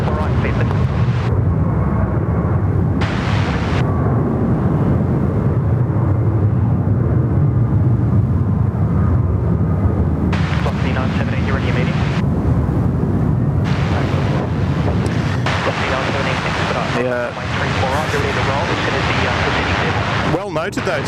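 Philippine Airlines heavy jet taking off from runway 34 right at Sydney Airport, a loud continuous roar with wind buffeting, and voices talking over it throughout.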